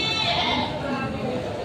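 Native goats for sale at a livestock market bleat among a busy crowd, the calls blending into continuous chatter and background noise close by.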